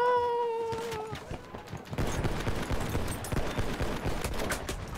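Automatico submachine gun fire in a Battlefield 1 match, rapid continuous bursts of close, sharp shots after a short tonal whine, steady and loud to the end.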